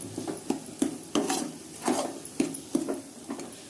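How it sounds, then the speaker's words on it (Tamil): Chili, coriander and garam masala powders stirring in hot oil in a pan for a paneer butter masala gravy, with repeated scraping clinks of a spoon against the pot over a faint sizzle, close and moderately loud. "இந்த மிளகாத்தூள் மல்லித்தூள் கரம் மசாலா பொடி இதெல்லாம் வாசல் போகிற அளவுக்கு வதக்கணும்"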